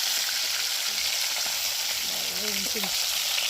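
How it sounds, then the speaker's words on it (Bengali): Tilapia fish heads fry in hot oil, giving a dense, continuous close-up sizzle and crackle that holds steady throughout, with a few faint squeaky tones near the end and no talking. "আর এখন এই যে মাথাগুলো এখন ভাজা হচ্ছে।"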